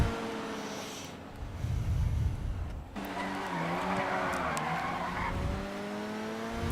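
Tires squealing and skidding during a Grand Theft Auto Online car race, a long screech over a revving engine that shifts pitch midway and carries on with continuous motor drone.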